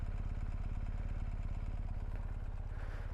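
A BMW R1250GS motorcycle idles in neutral, its engine putting out a close, steady, rapid low throb without pause.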